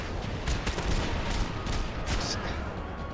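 Sustained gunfire fills a gunfight in Max Payne 3, dense and continuous, with sharper shots standing out over a loud, steady wash of combat noise.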